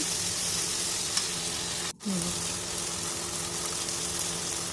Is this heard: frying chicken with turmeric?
yes